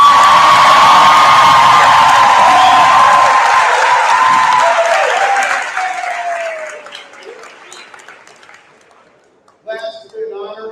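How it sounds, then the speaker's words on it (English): A crowd at the Chicago Ag Sciences Class of 2023 commencement ceremony claps loudly with whoops and cheers, the ovation slowly fading to near silence before a voice starts speaking. "Let's give them one big round of applause."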